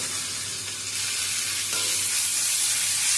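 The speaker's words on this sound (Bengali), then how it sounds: "লবণ আর হলুদটা দিয়ে ভালো করে নেড়ে ছেড়ে নিতে হবে হলুদের কাঁচা গন্ধটা চলে যাওয়া পর্যন্ত" Salt and turmeric being stirred into a frying ridge gourd and potato curry base in a pan, a loud continuous sizzle that swells louder partway through, with no talk.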